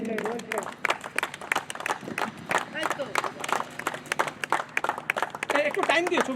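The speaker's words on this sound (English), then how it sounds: "Please clap for yourself and for everyone." An audience at a corporate gathering breaks into a round of clapping, a steady crackle of many hands close by, mixed with voices talking over it.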